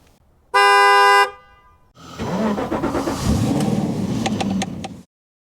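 A loud, steady motorcycle horn toot sounds for about a second, followed by the motorcycle engine idling and revving nearby.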